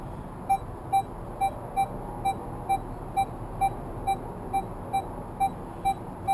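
A Minelab Equinox metal detector sounds a target tone while checking gold coin and ring signals: a steady series of about fifteen short, evenly spaced beeps, clear and fairly loud over a faint background hiss.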